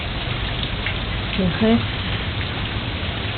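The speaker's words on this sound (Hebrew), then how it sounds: "גשם בלי סוף." Heavy rain pours down in Costa Rica as a dense, steady hiss close by, with someone speaking briefly over the downpour.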